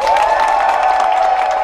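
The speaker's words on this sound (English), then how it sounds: "this audience here is going to give you a thunderous round of applause" A studio audience at a live love-and-marriage game show breaks into brief, loud, dense applause mixed with cheering, heard close and filling the whole moment.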